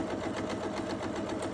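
A Pfaff Ambition 620 sewing machine runs a straight stitch at a turned-down speed, giving a steady, rapid mechanical whirring hum close up with no pauses.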